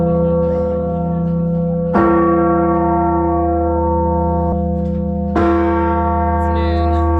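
A church bell in a Valencia bell tower rings out at noon, loud and close, with two strong strikes whose rich tones hang and ring on between them.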